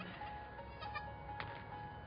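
Goat bleating in a pen after a doe has just kidded, a couple of short faint bleats over steady low background noise.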